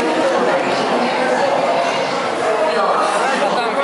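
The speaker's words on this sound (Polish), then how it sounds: "To jest główna poczekalnia, gdzie wszyscy czekają właśnie na pociąg. Wiecie, straszny tłum" A packed main waiting hall of a busy Chinese railway station fills the air with dense, continuous crowd chatter and overlapping voices, loud and close throughout.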